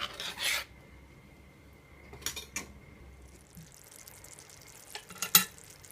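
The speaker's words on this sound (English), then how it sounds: "So I'm just gonna allow it to come to a boil, guys, until it get really sticky." Honey chili glaze boiling in a pan and being stirred, with a few short scraping strokes spaced apart over a faint, quiet bubbling background.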